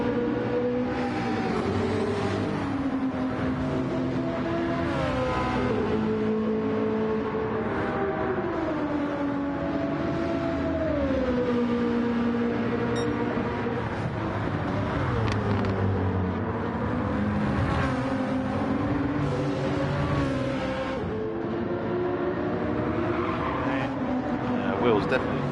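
Racing cars scream around Monza in a video game, with a steady roar of high revving engines whose pitch rises and falls through gear changes and corners, loud throughout and under continuous talking.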